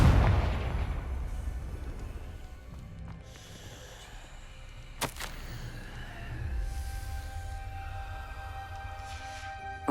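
Fiery Confringo spell blasts in the Hogwarts Legacy video game: a heavy boom opens, followed by a sharp crack midway and rumbling, crackling bursts amid game ambience and music.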